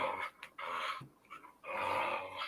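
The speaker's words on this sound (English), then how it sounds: "I thought it was a doggy noise" A playing dog growls in several rough, throaty bursts separated by short pauses, fairly close but low in level, with no one talking.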